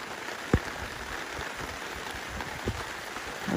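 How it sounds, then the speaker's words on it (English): Rain falls outdoors around a painter working in the open air, a soft, steady patter with a few sharper drops landing close by at scattered moments. "Rain's starting to come down a little bit more now"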